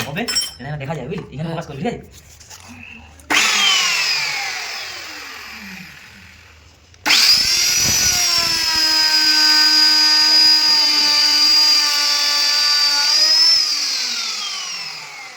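A handheld wood router spins up with a high whine, cuts briefly, winds down, then starts again and runs at a steady, loud pitch while shaping furniture wood, with clattering handling sounds at the start.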